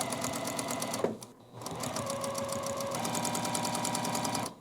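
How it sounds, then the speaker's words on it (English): A sewing machine stitches quilt block pieces corner to corner, a rapid rhythmic mechanical chatter close up, briefly pausing after a second before running steadily again to a stop. "we're going to sew corner to corner this way"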